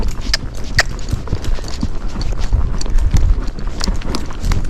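A Spotted Saddle Horse moves in a saddle gait on deep trail footing, its hooves beating a steady, rapid, close-up rhythm that continues throughout.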